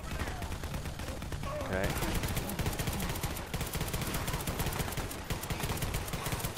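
Rapid gunfire in the Garry's Mod video game during a zombie horde fight, dense continuous bursts of shots throughout, with brief talk over it.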